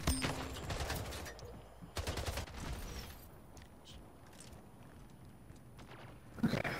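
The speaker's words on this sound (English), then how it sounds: "someone's behind me shooting" Bursts of rapid gunfire in the video game Splitgate, loud volleys near the start and again around two seconds, followed by fainter scattered shots and clicks, with a final burst at the end.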